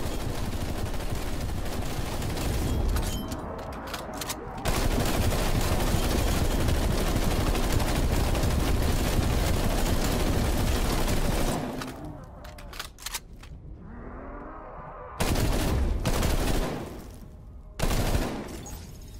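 Rapid automatic gunfire mowing down a pile of zombies in Call of Duty Cold War, loud continuous bursts lasting many seconds, then a brief lull and two shorter bursts, with game noise underneath.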